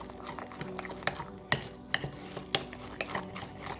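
Gram flour batter stirred into a smooth paste for Delhi-style palak patta chaat, a steady close-up scraping and swishing of spoon against bowl with sharper clinks of utensil on the rim.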